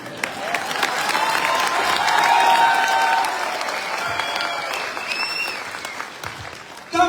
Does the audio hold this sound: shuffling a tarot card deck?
no